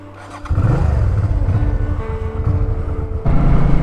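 A motorcycle on a road trip fires up with a quick start, then its engine settles into a loud, steady run as the rider pulls away, with a fresh burst of revving near the end; nobody talks.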